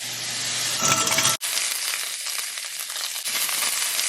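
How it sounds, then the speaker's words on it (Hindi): Peas, carrots and mushrooms are tipped into a hot frying pan with a short clatter. A dense, steady sizzle follows and carries on alone. "मटर, गाजर और मशरूम एक साथ ही डाल रही हूँ।"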